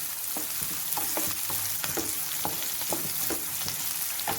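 Chopped onions frying in oil in a pan until golden brown for a Guntur-style prawn curry, a steady close sizzle with spatula stirring scrapes at a regular rhythm throughout.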